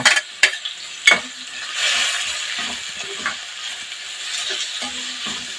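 Chopped onions and green chillies frying in hot oil for a bhaji, opening with several loud clanks of a utensil, then a steady sizzle with occasional stirring scrapes.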